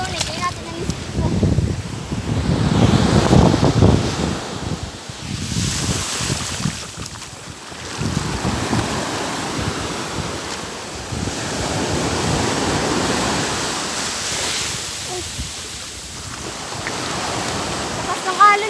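Heavy surf crashes and rushes in strong surges, mixed with gusting wind buffeting the microphone, with faint voices underneath.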